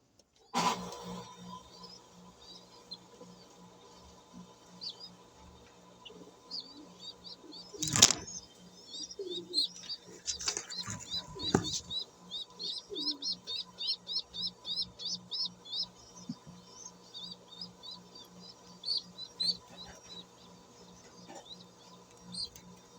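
A handled pigeon flaps its wings in short bursts, loud and close, followed by rapid fluttering and light chirps, with a faint hum of a nearby car underneath.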